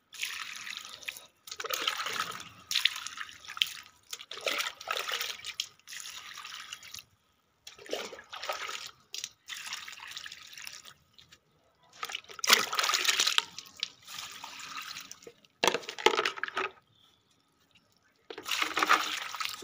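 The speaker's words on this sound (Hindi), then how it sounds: "तो गाइस सब में भर के पानी डालते हैं" Water pours from a mug into flower pots in repeated bursts of splashing and trickling, separated by short pauses as each mug is refilled, close and fairly quiet.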